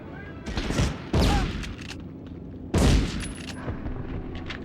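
Shotgun blasts in the video game Medal of Honor, a few loud, heavy booms spaced apart, each with a sharp attack and a short decaying tail over game ambience.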